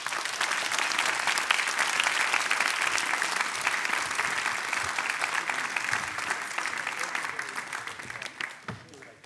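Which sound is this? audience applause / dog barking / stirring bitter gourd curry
audience applause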